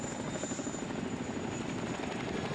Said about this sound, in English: It's a transport chopper